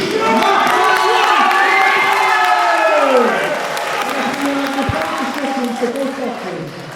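A boxing crowd cheers and applauds for boxer Reece MacMillan as he is introduced, a loud sustained roar with whoops that slowly fades while an announcer talks over it.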